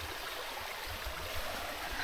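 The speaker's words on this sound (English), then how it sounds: "Or babbling brooks, whatever this is." A babbling brook on a backpacking trail to Wildcat flows steadily nearby, a constant wash of rushing, trickling water heard alone without voices.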